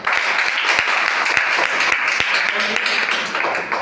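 A seminar audience at a business plan presentation claps loudly for a guide, dense continuous applause with sharp individual claps standing out across the whole stretch.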